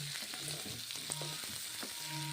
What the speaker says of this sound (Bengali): কাঁচা কলাগুলো এখন আমি কষে নিচ্ছি